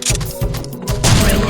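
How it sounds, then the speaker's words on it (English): Bowgun darts fired at a dinosaur in the game Dino Stalker: quick thudding shots sound up close in three rough bursts over about a second and a half, the last one loudest. "shooting a dinosaur with a little dinky dart doesn't do much"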